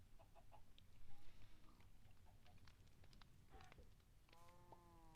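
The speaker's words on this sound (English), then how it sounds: "I just heard a chicken die." A chicken in the video game Minecraft gets killed, giving a short clucking squawk near the end over busy in-game ambience and scattered clicks.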